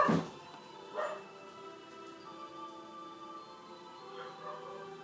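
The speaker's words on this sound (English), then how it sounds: "We got dogs barking," Dogs bark a few times at a distance, short yips spaced out over a few seconds, with a faint tonal hum in the background.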